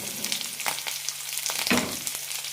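Shallots, onion, green chilli and curry leaves sauté in a pan, giving a steady close sizzle broken by a few sharp stirring scrapes and bursts.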